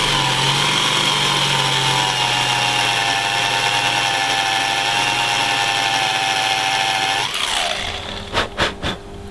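A handheld power drill whines steadily while boring into a model ship's mast platform, its motor pitch sagging slightly under load before winding down, followed by a few sharp knocks.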